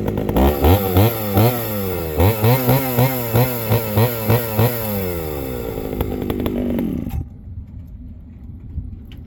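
A small Remington chainsaw runs close and loud, its engine revving up and down in repeated pulses before cutting off abruptly, leaving quiet background.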